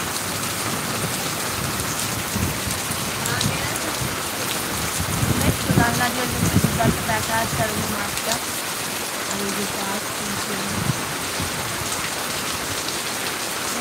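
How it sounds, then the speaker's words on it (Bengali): Heavy rain pours down steadily and densely outside a window, a constant loud wash of falling water with a few words spoken briefly over it. "প্রচন্ড বৃষ্টিটা হচ্ছে"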